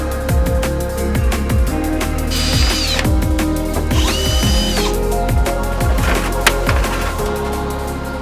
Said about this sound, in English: drill out each individual rib nut or rivet